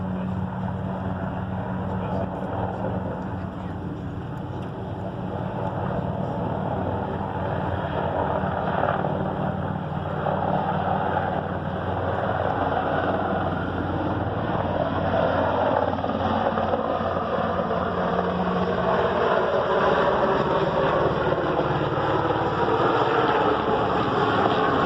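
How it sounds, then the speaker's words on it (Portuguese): A large helicopter approaches with a continuous broad engine and rotor roar that builds gradually in loudness, heard outdoors at a distance; no clear speech is audible. "Aí tá vindo um helicóptero grandão ali"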